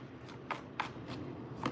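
Tarot cards are shuffled by hand in a quiet room, giving a few soft, brisk riffling bursts spaced irregularly over low background noise.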